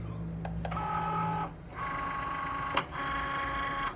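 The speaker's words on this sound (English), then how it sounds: "now it's time to transfer it to the cutting machine so the design can get cut" Cricut cutting machine loading its mat, a whirring motorized hum that runs, pauses briefly and restarts, with a few clicks and a sharp knock mixed in, close and fairly loud.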